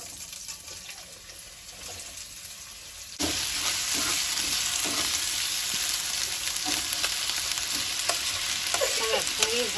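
Bitter gourd fries in a pan, first as a quieter sizzle, then a sudden louder, steady crackling hiss that continues close and alone.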